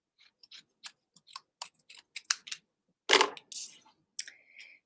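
Scissors snip paper and a doily while trimming pieces for a handmade card: a string of short, crisp cuts and rustles near the microphone, followed by a louder crumpling swish of paper and a few lighter snips, with no talking.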